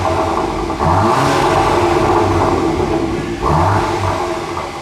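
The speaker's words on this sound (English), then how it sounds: "The new exhaust sounds great. It's a little bit louder" A 2024 Volkswagen Golf R with a new aftermarket exhaust revs hard twice, roaring up with a deep, throaty exhaust note before settling, close and loud with no talking.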